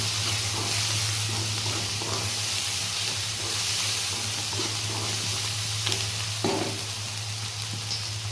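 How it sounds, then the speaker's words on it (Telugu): Aloo paneer curry with ready-made paneer fries in a pan while being stirred, a continuous close sizzle with occasional scrapes and clinks of the spoon, no voices. "ఇలా వేసుకొని బాగా కలుపుకుంటూ ఉండాలి"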